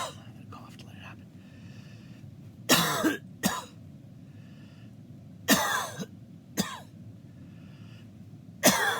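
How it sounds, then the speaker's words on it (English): A person coughs hard three times at spaced intervals, each burst loud and close, with quiet whispered speech and soft breathing between them. "I gotta cough to let it happen."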